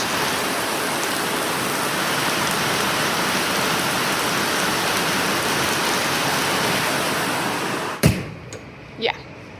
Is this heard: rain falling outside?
yes